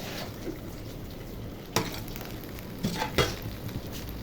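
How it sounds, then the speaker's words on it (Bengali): Chicken and rice frying together in a pot with cinnamon, cardamom and cloves for broiler chicken biryani, a steady low sizzle with a few sharp clinks of a spoon or utensil against the pot. "মাংস আর চাল একসাথে ভেজে নেবে কিছুক্ষণ"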